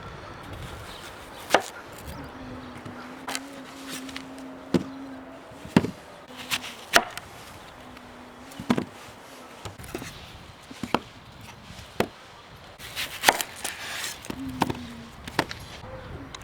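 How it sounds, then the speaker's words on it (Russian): A knife chops onions into thick half-rings on a cutting board. The chops are quiet and irregular, sharp thuds in uneven bursts, with a low background hum. "пойдем нарезать лук"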